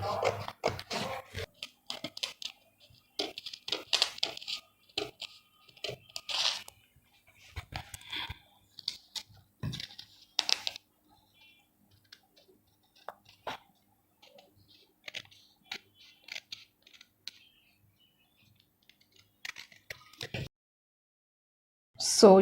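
Scissors cut fabric along a kaftan (bubu) pattern. Close, quiet snips and crisp rustles come in irregular bursts, separated by long silent pauses.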